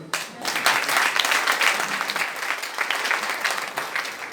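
A church congregation applauding during a service, with dense sustained clapping from many hands filling the room at a steady level, with no voices on top.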